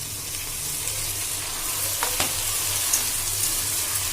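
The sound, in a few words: onion and tomato frying in a pan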